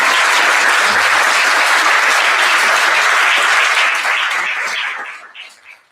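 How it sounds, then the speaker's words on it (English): Audience applause for students at a poetry recitation competition, the Washington State final: a dense, steady wash of many hands clapping at full strength for about four seconds, then thinning and fading out at the end. "Let's have a big round of applause for these incredible students"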